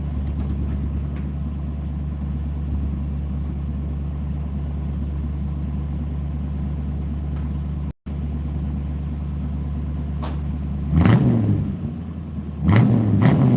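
A 1972 Ford F250 truck with an FE engine and fuel pump issues idles with a steady low rumble, then gives two short revs near the end, loud and close.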